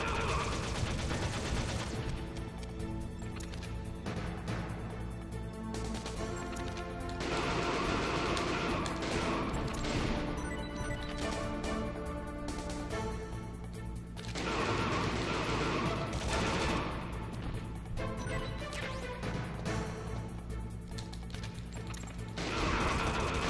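Gunfire in the video game Metal Gear Solid: dense, continuous game audio with bursts of shots and mechanical clatter running under background music for over twenty seconds, fairly quiet overall, with no clear talk.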